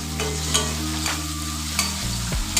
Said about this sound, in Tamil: அதையும் சேர்த்து இதில் நான் வந்து நல்லா வதக்கணும்.